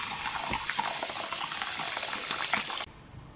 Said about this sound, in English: And I always cook my oats with water.